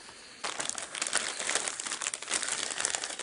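A plastic bag wrapped around a Logitech wireless keyboard crinkles and rustles continuously, close up and fairly loud, starting abruptly after a brief quiet moment.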